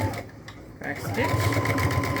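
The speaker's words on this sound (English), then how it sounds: "then we're going to sew the other side" A sewing machine stitches a shoulder seam on a tank top, a steady close mechanical whir running throughout while a person talks over it.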